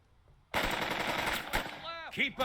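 Sustained bursts of automatic gunfire erupt loudly in the tactical war game Burden of Command after a quiet lead-in, rattling rapid shots with louder single cracks, followed by brief whistling ricochet-like tones near the end.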